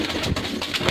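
Pigeons coo in low, rolling pulses, a few overlapping calls close by and moderately loud, without talk.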